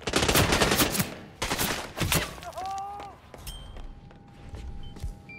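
Gunfire in a first-person shooter game with the Undying DLC pack, rapid bursts of shots and a shotgun blast in quick succession, loud and dense, layered with game effects and ringing electronic tones.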